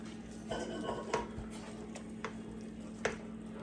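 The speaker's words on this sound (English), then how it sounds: "So now I'm going to add our green onions, parsley that Terry chopped up." Green onions and chopped parsley go into a pot of chicken and sausage gumbo, with a soft simmer under a few clinks and scrapes of a spoon and cookware against the pot, close by.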